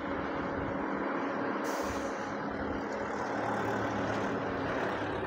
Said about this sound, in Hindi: ये टाटा की गाड़ी देखिए, 12 चक्का